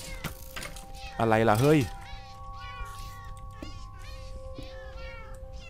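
A cat in the Minecraft video game lets out one loud, drawn-out meow near the middle, with someone talking excitedly before and after it.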